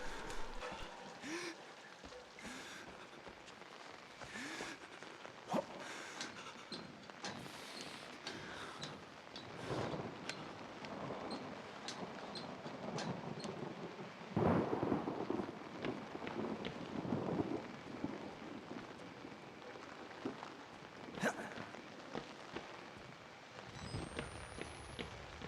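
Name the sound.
rain and thunder in the video game Outlast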